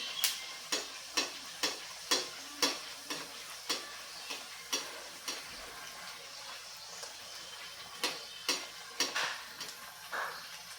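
Spicy wheat-flour puris frying in hot oil: a steady low sizzle runs throughout, broken by regular sharp clicks and taps of a slotted spoon against the pan.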